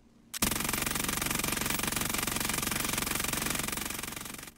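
MG82 machine gun in Call of Duty Warzone firing one long sustained burst of rapid, evenly spaced shots, loud and close for about four seconds, with no talk.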